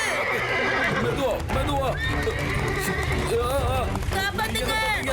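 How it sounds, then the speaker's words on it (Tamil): A cartoon horse neighs and whinnies repeatedly with galloping clip-clop hooves, loud and continuous, while frantic voices talk and shout over it. "குதிரை ரொம்ப வேகமா போயிட்டு இருக்கு"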